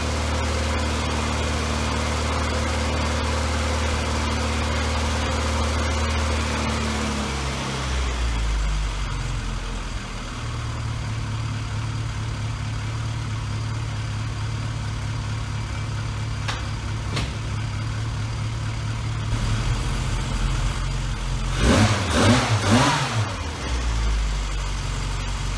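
A classic Mini car engine runs after a rebuild, with the choke pushed in: a steady close idle whose tone drops and settles partway through, followed by a few brief knocks and rattles.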